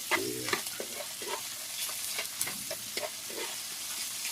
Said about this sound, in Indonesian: Kita goreng sekitar 1-2 menit dengan margarin panas ya.